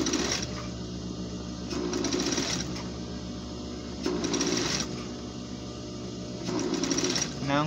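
A sewing machine stitching a coat's front pocket runs in steady whirring bursts, speeding up and slowing in repeated cycles with brief rhythmic hammering, close and continuous with a low motor hum underneath; no talking.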